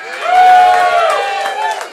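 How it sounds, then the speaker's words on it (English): A live comedy audience bursts into loud whooping and cheers with some clapping mixed in. The noise swells fast, then eases slightly while staying strong to the end. "Round of applause for Kevin McAllister."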